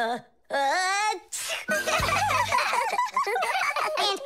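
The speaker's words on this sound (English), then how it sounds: "but then his nose tickled and achoo." A cartoonish sneeze: a rising, drawn-out vocal 'ah' breaks into a sharp burst, followed by busy music and chatter.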